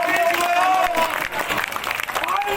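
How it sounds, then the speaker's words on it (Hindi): A crowd at a street gathering at Ambedkar Chowk, Chakarpur, claps in loud, dense applause with voices mixed in, the clapping thinning slightly toward the end. "एक बार जोरदार तालियां"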